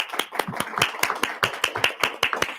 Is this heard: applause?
yes